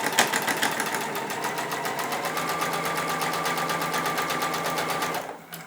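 A sewing machine stitches patchwork strips in a fast, even rattle of needle strokes, running steadily and close up before stopping abruptly near the end.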